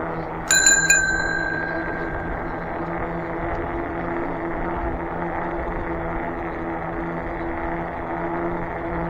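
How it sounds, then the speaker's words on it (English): A bicycle bell on a converted e-bike rings once near the start during a park ride, a bright metallic ding with a few quick follow-up strikes, over a steady low hum of outdoor background noise. "I'm going to use my bell because I don't think they hear me coming."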